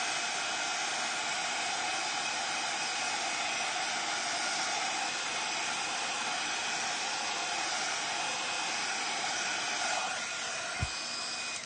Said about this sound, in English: So let me apply some heat.